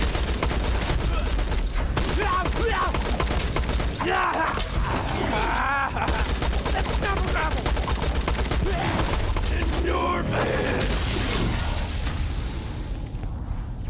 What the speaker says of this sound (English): That's the corrosive singularity grenade.